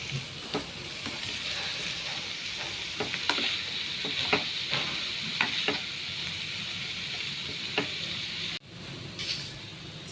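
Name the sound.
onion frying in a pan for banana flower bhaji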